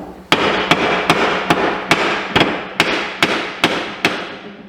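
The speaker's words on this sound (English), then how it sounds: "Let me get a dead blow hammer." A dead blow hammer strikes ten times at a steady, fairly quick pace, each blow a sharp, loud knock close by, working on a camping trailer's wheel bearing.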